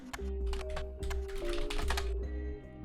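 Keyboard typing from the video game The Roottrees Are Dead, with close, crisp clicks arriving in quick irregular bursts over a steady low tone, and no voices.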